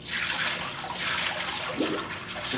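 Plain water is poured into a machine to prime it, mimicking sanitizer, making a steady, fairly close rushing and splashing that runs throughout with no talking.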